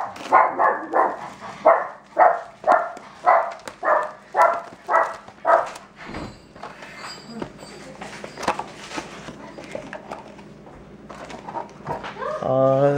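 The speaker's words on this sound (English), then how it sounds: "That's my dog." A pet dog barks about ten times in a steady, evenly spaced run of loud, close woofs, then falls quiet, leaving soft room noise and a brief whine near the end.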